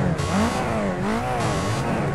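A pack of race cars in Project Cars 2 revving and accelerating together at the start of a race, a dense wavering engine drone with rising and falling pitch, steady and loud, with no talk.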